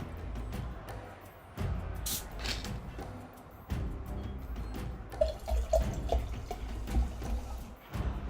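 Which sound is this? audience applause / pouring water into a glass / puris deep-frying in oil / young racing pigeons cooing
pouring water into a glass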